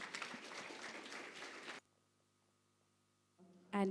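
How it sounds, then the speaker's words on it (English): A room of young children in a pre-kindergarten class claps for under two seconds, then the sound cuts to near silence before a brief louder burst at the end. "Big round of applause."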